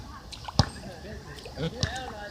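A pet goose splashes in a puddle at a playground, making a few sharp splashes and sloshing water sounds under soft nearby talking.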